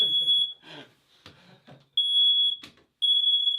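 A piercing high-pitched smoke alarm beeps in long bursts, cutting in and out between bits of speech and clattering nearby.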